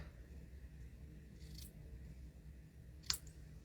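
Scissors snipping through card stock while a handmade card is made, heard as two brief, quiet snips about a second and a half apart over a faint steady background hum.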